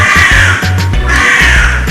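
A crow caws loudly and close by, several harsh rasping calls in quick succession, with no other sounds around them.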